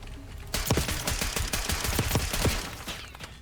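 Rapid automatic gunfire from a Call of Duty gunfight bursts in suddenly and continues as a dense, loud stream of close shots with no speech.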